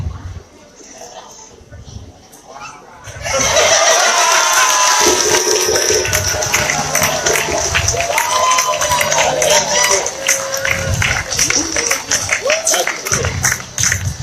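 A crowd at an Ohio Kwanzaa celebration bursts into loud, sustained applause and cheering that starts abruptly after a few quiet seconds and fills the rest of the stretch, with clapping and voices blending into a dense roar.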